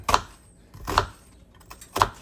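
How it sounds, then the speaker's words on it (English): A knife chops through food onto a cutting board in three crisp, separate strokes, about a second apart, close by, cutting it into quarters. "And then I'm just going to cut it in quarters."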